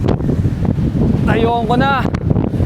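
Strong wind buffets the microphone in a steady, loud roar while someone climbs a steep slope, with a brief spoken phrase partway through.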